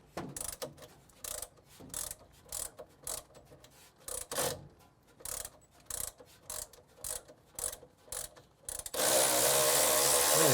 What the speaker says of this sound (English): See if my little ratchet will take it off.